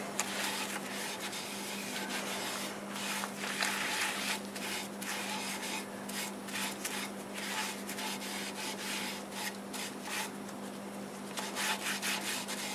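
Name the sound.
rubbing Polycrylic finish onto a wood turning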